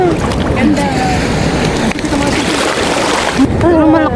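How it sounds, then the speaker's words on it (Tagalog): Strong ocean waves rolling and washing around the lagoons of Immuki Island, a steady loud surf with wind buffeting the microphone throughout, while people talk over it. "Pero malakas yung alon niya."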